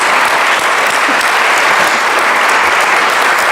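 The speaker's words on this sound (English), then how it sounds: "I'll clap for that one." An audience bursts into dense, loud applause that holds steady and sustained from start to finish with no break.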